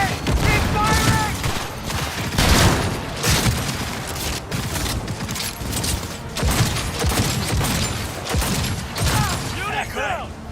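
Dense gunfire in the Cyberpunk 2077 video game, continuous rapid shots and impacts layered with mechanical clatter and booms, loud and sustained, with shouted voices mixed in.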